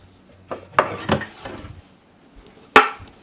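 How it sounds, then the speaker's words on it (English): Metal kitchen utensils and cutlery clatter and clink as a knife is pulled from among them, a few sharp jangles then a final bright clank, close and loud, no talking. "But I want to get a knife so I can cut off the ends of this."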